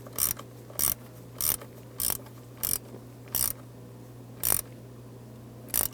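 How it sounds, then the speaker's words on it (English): Ratcheting tool clicks while tightening the front screw of an ignition switch on a 1994-2004 Ford Mustang, eight evenly spaced loud bursts about every two-thirds of a second over a low steady hum, no talk. "go ahead and tighten down that front screw here"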